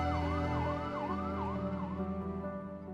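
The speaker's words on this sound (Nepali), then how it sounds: "तर अहिले तारकेश्वरमा कोही बिरामी हुने बित्तिकै केही बेरमै घर नजिकै एम्बुलेन्स आइपुग्दछ" An ambulance siren in Tarakeshwar wails loud and close in a repeating rising-falling cycle over a low road rumble.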